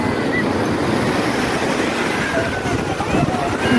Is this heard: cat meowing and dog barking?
no